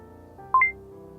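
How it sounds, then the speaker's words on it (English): A single short electronic beep sent over a scanner radio link, sounding as one sharp, clear tone over a faint steady hum, with nothing else around it. "That's one beep from Jose"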